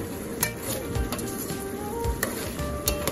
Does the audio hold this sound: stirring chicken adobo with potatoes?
yes